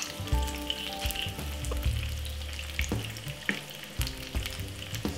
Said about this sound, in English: we're gonna basically make them fry until they get crispy